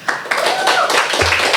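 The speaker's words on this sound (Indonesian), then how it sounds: "Tepuk tangan dulu." Audience clapping at a talk show taping, a quick burst of claps rising under a speaking voice that carries across the whole moment.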